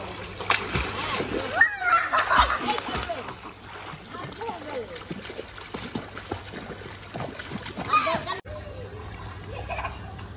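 A child splashing into a swimming pool, with water splashes and sloshing mixed with people talking nearby throughout.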